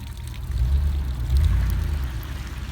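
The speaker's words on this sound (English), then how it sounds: "That old water pipe still carries water." Steady low rushing of water running through an old pipe in Plumas National Forest, California, continuous and fairly loud, with no voices.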